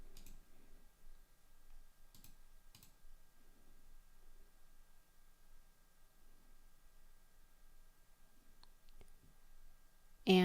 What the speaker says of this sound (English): I'm going to click the call button.